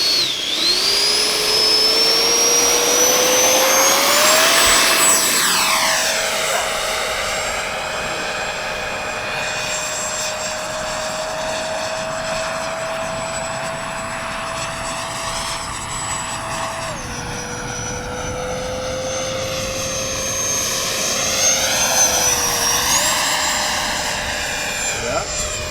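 A FreeWing A-6 RC jet flies past, its loud sustained turbine-like whine sweeping up and down in pitch as it approaches, passes and banks away, steady for most of the pass with people talking underneath.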